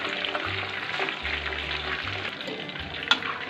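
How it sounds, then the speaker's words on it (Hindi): Chargha chicken frying on its second side in hot oil, giving a steady crackling sizzle with occasional soft bubbling, close and moderately loud with a brief sharp tick near the end. "अब अच्छी तरह इसको हम फ्राई करेंगे दूसरी साइड।"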